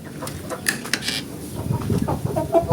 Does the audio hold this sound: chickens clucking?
yes